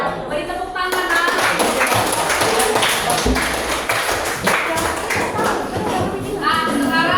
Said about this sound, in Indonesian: Beri tepuk tangan, nak.